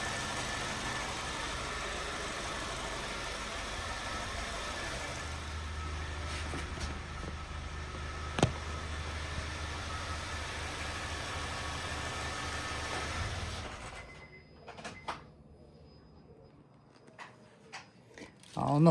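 Honda Fit with 120,000 miles and a suspected rod knock, engine idling with a steady low rumble for about 13 seconds before cutting out, leaving quieter room noise, a few clicks and a brief sound at the end.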